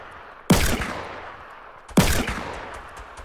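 Two loud, close single gunshots in Fortnite Battle Royale, about one and a half seconds apart, each with a sharp crack and a short fading tail over quiet background.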